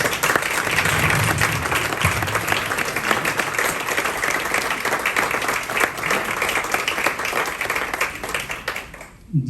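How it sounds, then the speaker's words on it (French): An audience at an architecture competition ceremony applauds the competing firms, dense sustained clapping lasting about nine seconds before tapering off abruptly. "Pour tous ces bureaux, j'aimerais qu'on les applaudisse très sincèrement."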